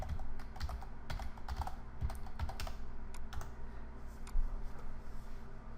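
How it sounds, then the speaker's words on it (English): FTP is typed on a computer keyboard: a few light, close key taps in short irregular bursts over a low steady room hum, with no voices. "You can go up here and type in FTP"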